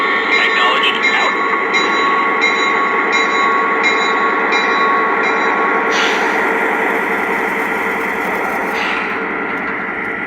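A Lionel Chicago and North Western F-7 model train runs with a continuous rolling hum and rhythmic clatter, with a radio-style voice talking over it and brief higher tones near the end.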